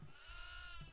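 A goat bleats in the horror video game Devour, a single nasal wavering cry about a second long, fairly loud against a quiet game background.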